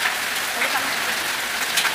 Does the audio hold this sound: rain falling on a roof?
yes